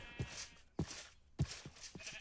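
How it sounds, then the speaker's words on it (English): Sheep in the video game Colonial Expanse bleat three times in a row, each call a short wavering cry with a regular gap between calls, fairly faint and heard without talk. "Why is there a sheep on the outside?"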